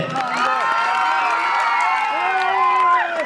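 A lively outdoor crowd in Barwala cheers and whoops for a gate, many high voices shouting together near and loud, with some clapping beneath the shouts.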